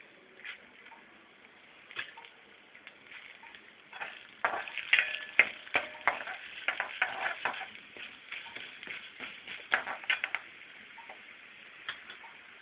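Urad dal and chana dal frying in oil for cucumber chutney, a soft crackling sizzle that grows into quick irregular pops and ticks, close and moderately loud.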